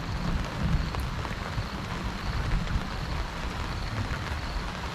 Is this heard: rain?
yes